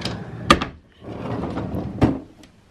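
An office desk drawer holding punches and inks slides open with a couple of sharp wooden knocks and a soft rolling rumble between them, close and fairly loud in a quiet room.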